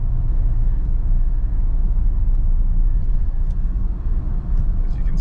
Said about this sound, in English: You can tell we got a little bit of a brake shake.